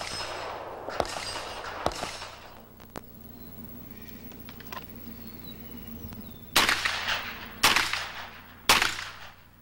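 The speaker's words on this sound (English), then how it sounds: "Don shooting at the upper range at the Chapman Academy" Pistol shots crack at an outdoor moving target stage during an action pistol match at a shooting academy range, a few spaced single shots early, then three loud, sharp reports about a second apart near the end.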